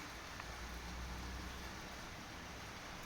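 Steady morning rain in Medjugorje, a continuous soft hiss of drops falling outdoors, even and unbroken throughout with no voices.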